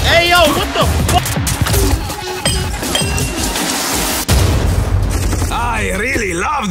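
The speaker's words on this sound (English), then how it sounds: "I really love these grenades" Grenades explode and guns fire in the game Rogue Company, heard as dense, loud booms and shots throughout. Voices talk over the combat, and there is one sharp blast near the end.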